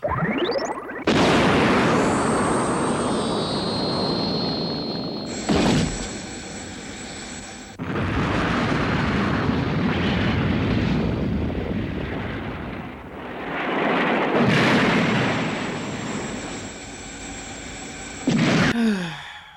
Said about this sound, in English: Cobra, you took out an entire ship in one shot